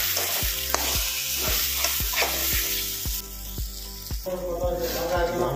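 Pork curry with cumin and coriander sautéing in a pan, a steady hiss of frying with a regular series of sharp scraping stir strokes roughly every half second, close and fairly loud.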